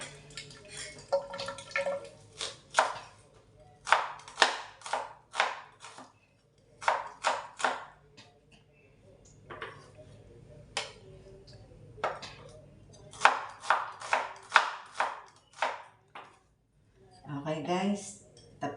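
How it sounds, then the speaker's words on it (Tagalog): Onions, ginger and garlic are chopped with a knife for arroz caldo, giving sharp, close chops in quick bursts of several strikes separated by short pauses. "Tapos ko nang hiniwa itong mga sibuyas, luya, bawang."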